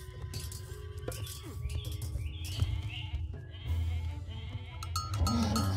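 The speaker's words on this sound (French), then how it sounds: "Super, on fait des chèvres." Goats bleating in the game Age of Mythology, several short bleats layered over a busy, steady game soundscape with other ambient effects, moderately loud throughout.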